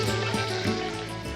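Whole cumin seeds sizzle in hot oil, a continuous soft frying hiss with faint crackles, steady and close.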